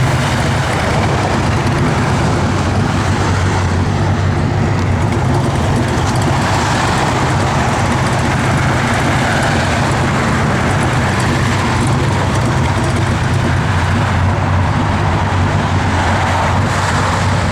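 Road traffic roars steadily and loudly for the whole stretch, with the continuous rumble and whoosh of passing cars and heavier vehicles close by and no one speaking.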